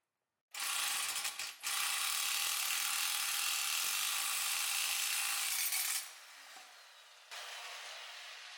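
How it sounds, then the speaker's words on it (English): A C-clamp press cranks a ball joint out on a Nissan 350Z with a steady, loud ratcheting grind that runs for several seconds, stops briefly, then continues at lower levels until the joint gives way. "so let's press it all the way through."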